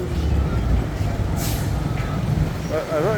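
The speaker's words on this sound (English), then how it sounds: "Here's one of the Cirrus buses." A Ceres bus on a Philippine street hisses with a sharp burst of air-brake release amid a continuous engine rumble, followed by a brief squeal as it moves close by.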